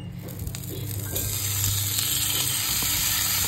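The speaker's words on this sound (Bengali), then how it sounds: "কালকে রাত্রে তো আর ভাত খাইনি, এটা এখন একটু সাতলিয়ে নেবো" Leftover rice sautéing in oil left from fried cauliflower in a pan, a continuous close sizzle that swells a little louder partway through, with faint stirring scrapes and no voices.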